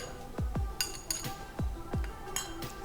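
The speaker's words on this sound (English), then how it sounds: "First thing we're going to do is mix up the garlic sauce." Garlic sauce is mixed with mayonnaise in a bowl, with a utensil knocking and scraping against the dish in a series of close, distinct clinks and taps, without talk.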